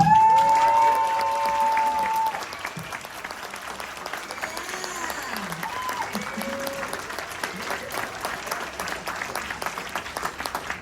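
A convention panel audience applauds a late-arriving cast member with loud, sustained clapping that eases slightly after a couple of seconds and continues steadily, with voices and a few shouts mixed into the crowd.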